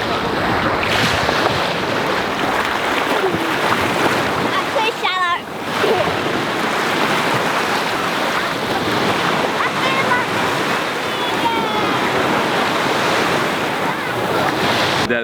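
Heavy surf of 6 to 8 foot waves breaking along a long sandy beach on a rugged coastline of Elba, a loud continuous wash and roar with gusting wind buffeting the microphone throughout.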